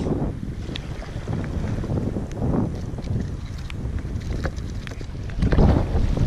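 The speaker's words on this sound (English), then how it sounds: "the wind has gone up, I don't know what it's blowing, but she's blowing pretty hard" Strong wind buffets a small fishing boat at sea off Bruny Island, a heavy, gusty roar that rumbles hard against the microphone and swells and fades throughout, with no voices.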